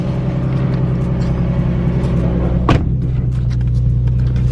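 A turbocharged Nissan 350Z on its stock motor runs loud and close with a steady low engine drone, and a single sharp thump partway through before the car continues driving off.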